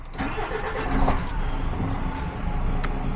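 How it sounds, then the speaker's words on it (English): A DAF truck engine cranks and starts during repairs, settling into a steady rumble, loud and close, with no talking. "let's start the truck back up, put it in reverse."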